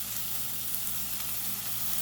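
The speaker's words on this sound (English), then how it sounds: "Get the saltfish a little frying." Steady sizzling of saltfish frying in a hot pan, a continuous crackling hiss with a low hum underneath and no talking.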